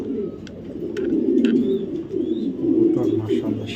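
Close, steady cooing from a young light-coloured male racing pigeon of a pedigree line, repeated low rolling phrases lasting several seconds, with light taps and faint chirps mixed in.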